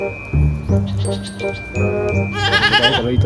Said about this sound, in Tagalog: Isang kambing.